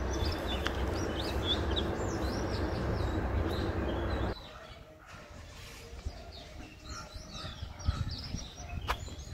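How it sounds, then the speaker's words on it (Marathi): Birds sing around Bhuikot fort at Shirala, with scattered chirps and calls. For the first half a steady low rumble sits under them; after it drops away the faint birdsong stands out more clearly. "पहा इथं पक्ष्यांचा सुमधुर असा आवाज कानावर येत आहे"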